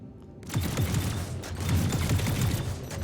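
Ship weapons fire on a Drake Cutlass Black during a space combat game, a quick run of close, rapid punchy shots over a droning engine hum, with no talking.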